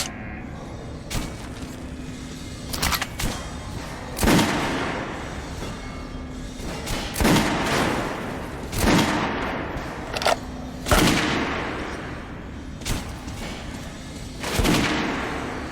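Gunfire on a shooting range in Metro: Last Light, heavy single shots repeating every second or two, loud and close, each with a booming echo over a steady background rumble.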